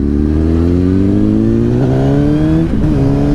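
A Honda CBR1000RR Fireblade motorcycle accelerates hard on a leisurely road ride, its loud engine whine climbing through the revs close by, with a brief dip at a gear change before pulling again.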